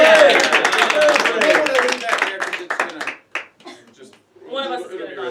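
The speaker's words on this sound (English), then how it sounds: "give it a round of applause" A small group claps in a brief round of applause, the scattered claps mixed with loud talking and laughter close by, then tapering off into quieter chatter.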